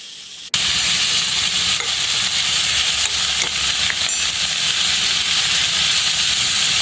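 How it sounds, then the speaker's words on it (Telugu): Bottle gourd pieces fry with dried chillies and curry leaves, a loud continuous sizzle and hiss bursting in abruptly and holding steady, with faint stirring scrapes. "ఇవన్నీ బాగా ఫ్రై అయిన తర్వాత ఈ పొట్లకాయ ముక్కలు కూడా వేసి"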